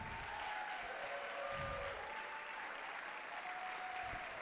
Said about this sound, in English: Round of applause for our intermediate band.